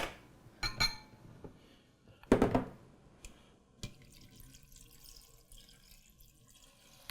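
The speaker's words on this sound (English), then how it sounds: "we're going to put in a cup and a half of water" A cup and a half of water poured into an Instant Pot over 10 ounces of penne pasta: a short, splashy gush after a few clinks, followed by quiet dripping and settling.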